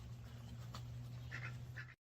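Ducks quacking in short bursts, fairly faint, over a steady low hum, in a yard where ducks and dogs live together.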